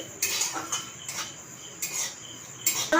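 Semolina being stirred and lightly dry-roasted in a cooking pot, a spoon scraping and clinking against the metal in repeated strokes, close and clear, with no talking.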